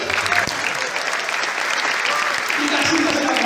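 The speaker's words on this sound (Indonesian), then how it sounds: "Oke, tepuk tangan apa sih?" Sustained audience applause fills a seminar hall on transportation, a dense continuous clapping at fairly loud level with a faint voice underneath.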